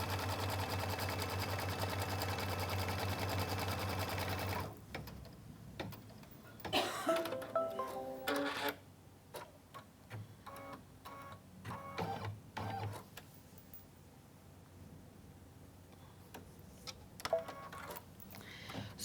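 An embroidery sewing machine stitches a background pattern and lettering on a quilt block, a loud, steady mechanical whir that runs alone for about five seconds. It then stops, followed by fabric handling and brief conversation.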